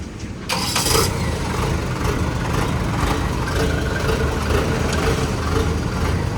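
Car traffic rumbles steadily along a road, engines droning close and fairly loud after a brief quieter opening moment, with no talk.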